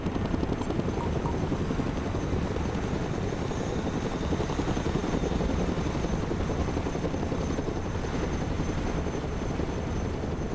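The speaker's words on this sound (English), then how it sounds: "Let's go and recover it with our helicopter." A heavy Chinook cargo helicopter in a video game drones continuously with a rapid, pulsing rotor chop, loud and steady throughout.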